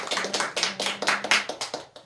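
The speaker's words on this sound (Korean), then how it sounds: "야, 박수." Lecture listeners clap in a quick, brisk burst of about a dozen distinct, fairly close handclaps over two seconds.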